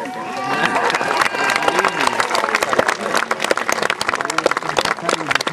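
An outdoor crowd at a 2011 historical festival in Rozhanovce applauds a Žilina society devoted to history, romance and pranks, with sustained clapping and some cheering close by.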